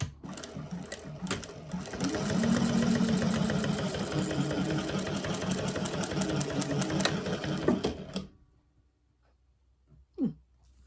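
A sewing machine stitches through leather in a fast, steady mechanical whir for about eight seconds, then stops abruptly, leaving near silence broken by a brief faint sound.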